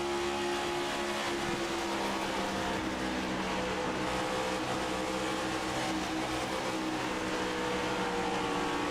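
Onboard race car engine at Charlotte Motor Speedway during a 600-mile league race, a steady loud mechanical drone with dense harmonic hum throughout, close and continuous with no talk.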